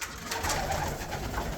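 Pet doves or pigeons cooing steadily and fairly loud, with overlapping soft calls through the whole short stretch and no voices.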